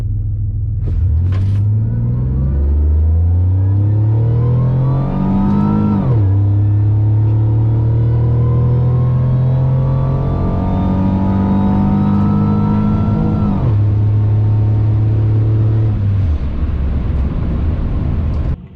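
A GM 3800-powered GTP launches down a drag strip on a test pass, its engine rumbling loud and near, the revs climbing hard through several gear changes with sharp drops between shifts before fading at the end.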